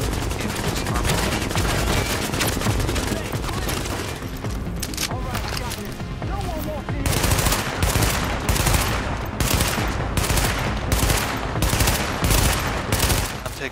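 Heavy gunfire in The Division, dense automatic bursts and shots packed together across the whole stretch, loud and close, with a regular run of rapid shots toward the end.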